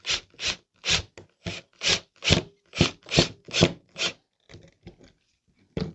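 A rhythmic series of about a dozen rasping, rubbing strokes, loud and close, as something is worked on a wooden piece in a homemade jaw-jacker jig, then a few quieter scrapes after a pause, with no voices.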